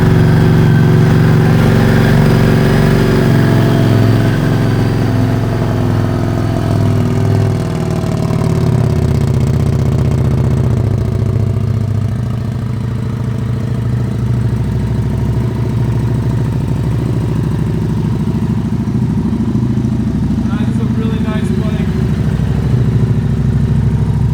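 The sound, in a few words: 2015 Harley-Davidson Street 750 motorcycle engine starting and idling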